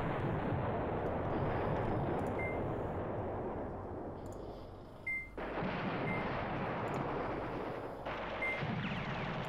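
Artillery bombardment in the war game Command Ops 2 rumbles as a continuous dense roar of distant shelling, with a brief dip midway before the barrage resumes, alone and without talk.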